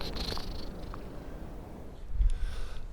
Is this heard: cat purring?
yes